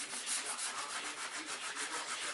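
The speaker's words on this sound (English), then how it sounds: "I gotta sand both these radiuses and this inside cove" Sanding the wavy edge of a solid surface stone piece by hand with 80-grit paper, a close, steady rhythmic rubbing with regular back-and-forth strokes throughout, no voices.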